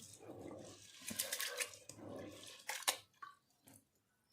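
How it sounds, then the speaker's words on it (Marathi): Wheat grains are swished and washed by hand in water, with soft sloshing and trickling close by and a few louder splashes toward the end. "इथे आता मी दोन पाण्याने याला स्वच्छ धुवून घेत आहे"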